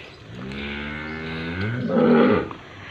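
On a dairy farm with cows and calves, a cow gives one drawn-out, close moo that swells louder toward its end before stopping.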